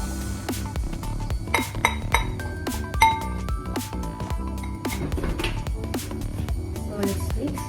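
Ube pandesal dough ingredients being stirred in a bowl, with a steady run of sharp clinks and taps of a utensil against the bowl, close and moderately loud, over a low continuous background.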